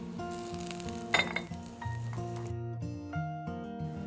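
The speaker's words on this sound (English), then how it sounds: "let's pan fry the tempeh" Tempeh pan-fries with a light, steady sizzle and a few utensil clinks, partly under a melodic music track.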